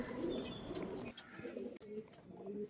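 Pigeons of Andhra, Arshad and Kalanka breeds kept for sale coo steadily at close range, low soft calls repeating through a busy background with a few faint chirps.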